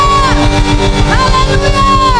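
An Indonesian church congregation at a praise and worship service cheers and shouts loudly over sustained music, a dense crowd roar with no breaks.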